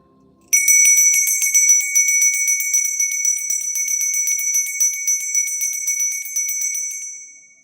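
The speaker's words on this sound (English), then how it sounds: "I'm going to ring the bell." A single clear bell rings loud and bright after a brief quiet moment, its tone ringing on for several seconds before fading away.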